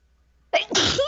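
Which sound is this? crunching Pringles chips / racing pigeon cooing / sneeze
sneeze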